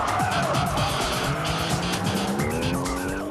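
A car drifts at Maze Circuit in Niigata Prefecture, with the engine roaring loudly and the tires squealing in long wavering tones throughout.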